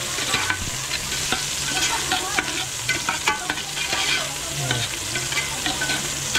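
Oil goes into a hot pan while cooking dinuguan, with a steady loud sizzle and frying hiss throughout, broken by scraping stirs and occasional clinks, no voices.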